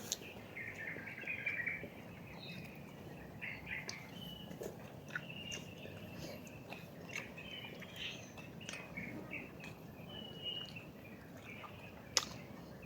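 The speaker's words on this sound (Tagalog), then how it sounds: "Baka ibon lang yun." Birds calling in mountain forest, faint chirps and short tweets scattered over a steady hiss of insects and ambient noise, distant and quiet, with no talk.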